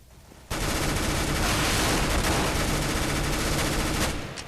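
Gunfire from a weapon in the video game CS:GO goes off in one sustained, loud burst of rapid shots that cuts in sharply and runs for about three and a half seconds, with no talking.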